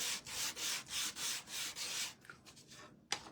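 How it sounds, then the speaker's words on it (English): Chalk paint on a small wooden standing bunny being sanded by hand in a series of about seven steady, close back-and-forth rasping strokes, then a few softer scuffs and a sharp tap at the end. "I do like how chalk paint sands."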